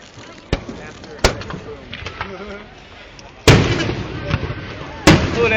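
Fourth of July fireworks in West Allis, Wisconsin, go off as four sharp, irregular booms and cracks, the later ones louder. Spectators talk between the bursts.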